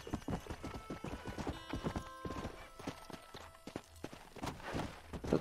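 Horse hooves clip-clop at a walk in the Red Dead Redemption video game, an uneven run of close, crisp hoofbeats over faint game ambience, with a brief neigh mixed in.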